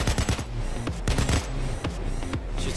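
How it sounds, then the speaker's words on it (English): Gunfire rattles in the heist shooter Payday 2 as people are shot through a fence, loud rapid bursts of automatic shots in uneven clusters, close and without talk. "Shoot some people through the fence here."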